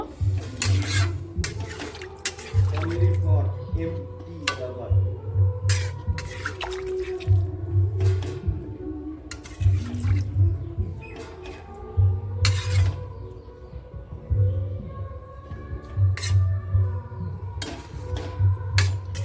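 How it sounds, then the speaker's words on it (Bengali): Cauliflower and potato curry is stirred in a pot after water goes in, giving wet scraping and sloshing with drips and clinks, under a steady low hum and repeated sharp knocks. "আলুর সাথে পরিমাণ পরিমাণ মতন জল দিয়ে দেব জল দিয়ে একটু নাড়াচাড়া দিয়ে নেব"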